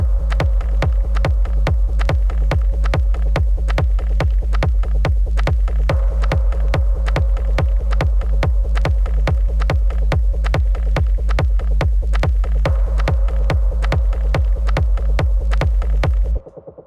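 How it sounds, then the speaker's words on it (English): A dark techno intro pounds with a steady booming kick and throbbing bass pulse, rapid hi-hat ticks running above, loud and relentless until it cuts off. "Which is basically the intro to the track, sounds like this."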